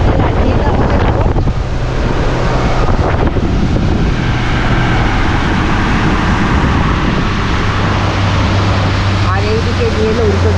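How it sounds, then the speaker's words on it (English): Strong wind on a boat at Thane Creek, Airoli, roars and buffets the microphone continuously, loud and close, with a low engine hum underneath and a voice briefly audible. "ভীষণ হাওয়া, আমার টুপি উড়ে যাচ্ছে"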